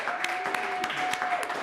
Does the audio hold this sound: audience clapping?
yes